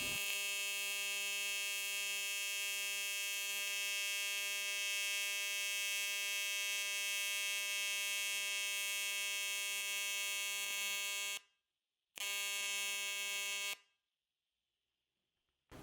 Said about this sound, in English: Now let's make a weld on aluminium.